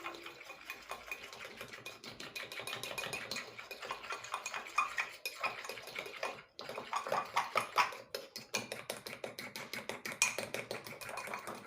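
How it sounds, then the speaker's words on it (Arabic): A hand whisk beats Swiss roll cake batter in a bowl. Rapid, rhythmic clinking and scraping strokes continue close up at moderate volume, with a brief pause partway through. "وهنقلب كويس جدا لحد ما القوام يتقل معايا"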